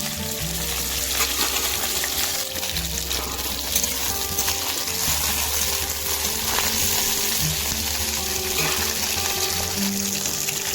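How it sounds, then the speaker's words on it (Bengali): Pieces of pointed gourd sizzle and crackle steadily in hot oil, close and constant, with occasional stirring noises in the pan. "পটলটা ভালো করে ভেজে নেব লাল লাল করে।"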